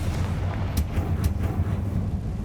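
Spell blasts in the video game Hogwarts Legacy, Bombarda and Confringo, giving a rumbling explosive burst with a couple of sharp crackling pops over a deep, continuous low roar.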